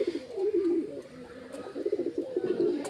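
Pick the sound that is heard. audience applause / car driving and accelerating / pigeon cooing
pigeon cooing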